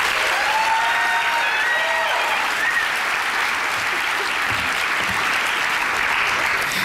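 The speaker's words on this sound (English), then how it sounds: "Please join me in another round of applause for all three of our nominees." Sustained audience applause for three award nominees at a charity breakfast, a full, even roar of clapping from a large room, with a few faint voices rising in the background.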